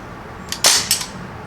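A Crosman R1 full-auto air rifle fired outdoors in single shots, a few sharp snapping cracks in quick succession, the middle one loudest.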